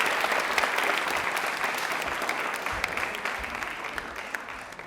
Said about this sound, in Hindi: चलिए तालियां बजा दीजिए, जोरदार तालियां बजा दीजिए